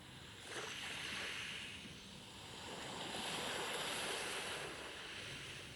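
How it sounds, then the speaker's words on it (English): Ocean waves on a beach, a soft, steady wash of surf that rises and falls in gentle swells, heard faintly without any voices. "the crashing of the waves"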